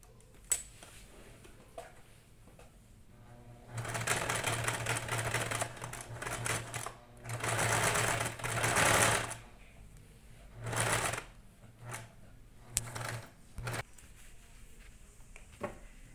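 A sewing machine stitches a handmade fabric bird, running in several bursts of rapid mechanical stitching, loud and near, separated by short pauses with light handling noises and no talk.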